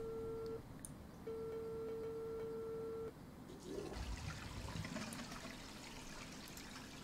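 A toilet flushes in a video game, a rushing, gurgling swell of water arriving after a steady electronic tone cuts out, fairly quiet and close.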